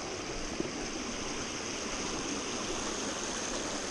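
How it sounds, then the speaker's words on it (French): River water streaming over a tarp in a diverted riverbed, a continuous soft wash of flowing water, fairly quiet and even, with one tiny tap and no talking. "carrément la rivière qui s'écoule sur une bâche"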